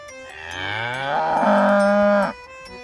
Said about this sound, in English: The cow goes.